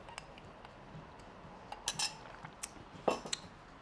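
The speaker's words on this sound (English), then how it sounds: "Whisk that together." A whisk works eggs, milk and flour into a batter for toad in the hole, giving sporadic light metallic clinks and taps against the bowl at a fairly low level, with no voices.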